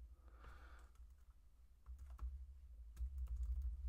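Typing on a computer keyboard: quiet, close clicking keystrokes in short uneven bursts over a low steady hum, no voices.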